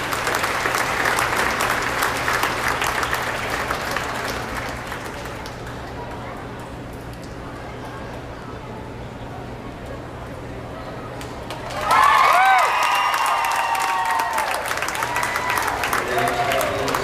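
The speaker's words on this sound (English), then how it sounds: "Let's give him one last round of applause." Audience applause for the champion steer at a beef show, a sustained round of clapping from the crowd that dips and swells, with a voice speaking over the end.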